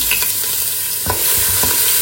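Garlic and ginger fry in plenty of hot oil for a chicken and vegetable curry, a loud close sizzle with a few scraping stirs against the pan.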